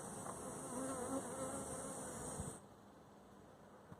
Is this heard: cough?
no